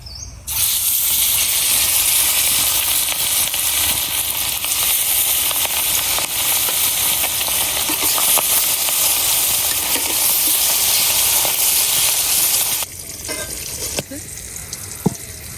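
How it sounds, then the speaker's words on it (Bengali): Fish frying in hot oil in a karahi pan in a village kitchen, a loud, steady sizzle that holds for about twelve seconds and then drops to a quieter crackle with a few sharp pops. "তেল গরম হয়ে গেছে, এখন মাছগুলো ভাজা নিয়াম।"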